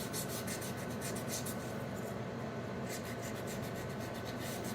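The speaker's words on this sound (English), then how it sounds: "You just kind of turn sideways and sand the edges here." Steady hand sanding of wooden edges to round and bevel them, a continuous soft rubbing rasp with faint rhythmic strokes, close and fairly quiet, no voices.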